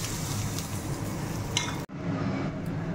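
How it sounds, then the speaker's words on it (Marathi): Hot spice tempering is poured over grated carrots for a sweet-sour carrot salad and stirred in, giving a steady close crackling sizzle with faint spoon clinks, broken by a brief gap before the mixing resumes. "ही मस्त अशी कडकडीत फोडणी"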